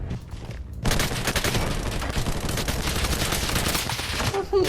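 Dense gunfire from the video game Lost Light erupts after a quiet start and runs as a loud, continuous rapid burst of shots for several seconds.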